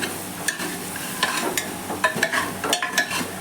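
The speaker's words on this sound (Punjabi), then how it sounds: "ਹੁਣ ਇਹਦੇ ਵਿੱਚ ਪਾ ਦਵਾਂਗੇ ਜੀ ਆਪਾਂ ਆਲੂ ਆਲੂਆਂ ਨੂੰ ਚੰਗੀ ਤਰ੍ਹਾਂ ਮਿਕਸ ਕਰ ਲਵਾਂਗੇ" Potatoes being stirred into a vegetable curry with tomato and capsicum in a pressure cooker, with repeated scraping and clattering strokes over a low sizzle, fairly close and steady.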